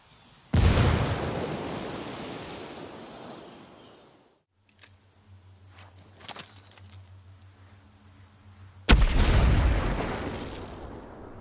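Two heavy booming frag grenade blasts in Ghost Recon Breakpoint or Wildlands, each a sharp loud onset decaying over several seconds, separated by a quieter stretch with faint pops.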